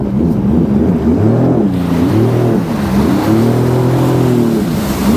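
A Sea-Doo GTI 170 jet ski engine on the water during its first run-in, revving up and down in repeated swells, loud and close, with no talking.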